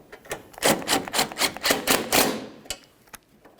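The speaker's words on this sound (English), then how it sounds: "you can continue on by tightening each one of these bolts" Ratcheting wrench snugging the front bumper bracket mounting bolts on a 2003-2007 Honda Accord, a rapid series of close, sharp metallic clicks in a steady burst that stops abruptly, with no talk.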